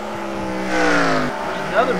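Stock cars roar past during a heat race at Bristol, loud engine drones with rising and falling pitch as cars sweep by in close succession, with a commentator talking over them.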